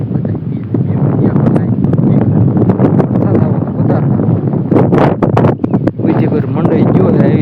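Strong gusty wind sweeps across a farm before rain, buffeting the microphone in a loud roar that runs under someone talking throughout.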